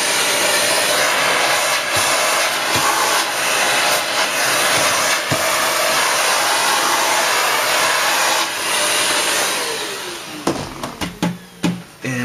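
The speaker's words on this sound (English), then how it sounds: "So I'm going to just do another quick vacuum up." A vacuum cleaner drones loudly and steadily during cleanup after a Samsung Galaxy S3 glass screen replacement, then cuts off into a few quick clunks and knocks near the end.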